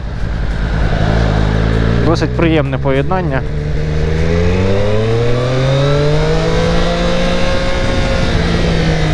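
A Triumph 765R inline three-cylinder motorcycle engine idles loudly, then revs in quick bursts before settling into a rising and falling drone; someone speaks briefly over it.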